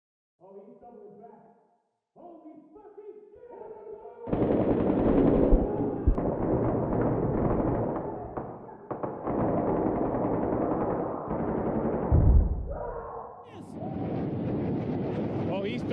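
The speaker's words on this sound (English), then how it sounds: "This sound effect, for example, is just a muffled piece of dialogue from Battlefield 3's iconic mission, Rock in a Hard Place, mixed with sounds of a brutal gunfight" Muffled wartime dialogue from the Battlefield 3 mission Rock in a Hard Place is mixed into an SCP: Containment Breach sound effect. Distant, dull gunfire and explosions roll loudly under the indistinct voices after a quiet start.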